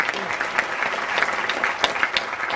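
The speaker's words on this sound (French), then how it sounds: "Donc des applaudissements peut-être pour la ville de Strasbourg." Audience applause at the closing awards ceremony of the Strasbourg European Fantastic Film Festival, honoring the city of Strasbourg: a steady, moderately loud wash of clapping from a crowd, with a few sharper individual claps standing out.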